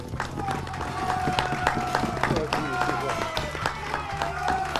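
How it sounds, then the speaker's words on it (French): Student audience at a school quiz final applauding the contestants, a steady crowd clapping with scattered cheers, moderately distant, while voices talk and murmur through it. "On peut applaudir pour eux."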